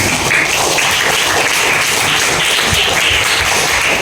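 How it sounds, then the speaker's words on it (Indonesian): A classroom of students applauds a group after its presentation, brisk, close clapping from many hands that stays loud and continuous throughout. "Beri tepuk tangan"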